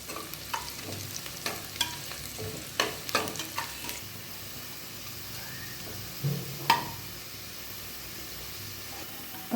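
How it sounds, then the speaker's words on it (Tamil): Sliced onions sauté in a pan for mushroom biryani, browning with a quiet, steady sizzle while a spoon scrapes and stirs in occasional sharp strokes. No voices are heard. "இந்த ஆனியன் மட்டும் நல்ல ப்ரௌன் கலராக நம்ம வதக்கிக்கலாம்."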